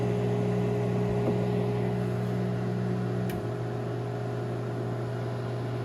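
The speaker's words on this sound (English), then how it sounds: "the microwave's magnetron is still heating my cup of water" A 1700 watt Panasonic microwave oven runs while heating a cup of water, giving off a steady, close hum with a strong low tone and constant fan noise, interrupted only by a brief click.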